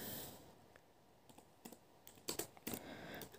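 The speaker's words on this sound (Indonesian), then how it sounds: "di sini misalnya Bapak Ibu ketik" Typing on a computer keyboard, a short run of light, irregular key clicks, some in quick pairs, close but soft against a quiet room.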